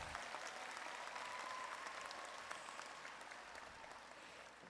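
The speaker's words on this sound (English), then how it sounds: "Give my husband a round of applause." Large commencement crowd at a university graduation applauding, a steady, faint, distant roar of many hands clapping that slowly tapers off.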